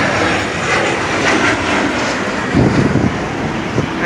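Two T-38 jet aircraft pass overhead, a loud continuous roaring jet-engine rush that stays steady throughout with slight swells and buffeting near the end.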